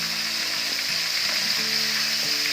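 Zinger burger chicken pieces, just flipped, fry in hot oil over medium heat with a steady, close hissing sizzle and faint crackle throughout, no talking.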